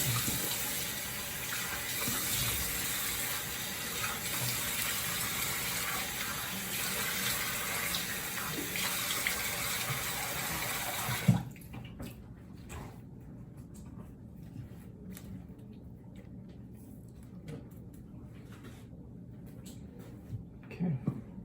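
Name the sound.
running water while washing off after a wet shave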